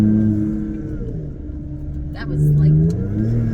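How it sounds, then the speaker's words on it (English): A Ford EcoBoost engine with its stock intake revs under light throttle, close by and steady. Its drone rises and falls through a mid-range pitch and swells near the end, with someone talking briefly over it. "A little bit of throttle on the stock intake."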